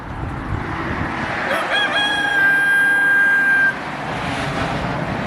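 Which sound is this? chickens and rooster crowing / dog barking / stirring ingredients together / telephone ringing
chickens and rooster crowing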